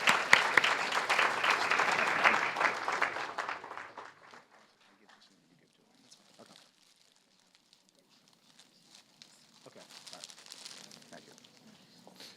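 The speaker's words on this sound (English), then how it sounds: "They really deserve a great round of applause." Audience applause at a township council reorganization meeting, loud and dense for about four seconds and then fading out, with only faint scattered claps and room noise afterward.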